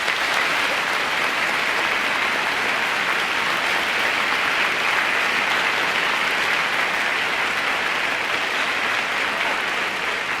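Sustained, loud audience applause at a live concert, transferred from a vinyl record, a steady wash of many hands clapping for about ten seconds with no talking over it.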